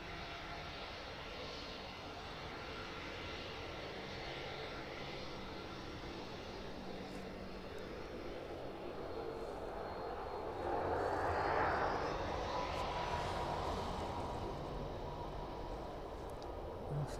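An airplane takes off from the runway at East Midlands Airport, its engine roar steady at a distance and then swelling louder as it climbs away.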